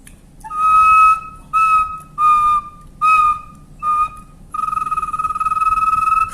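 Brazilian wooden bird call whistle blown in five short, clear tonal bursts, then one longer sustained note, close and loud with no talking.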